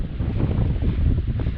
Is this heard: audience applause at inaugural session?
no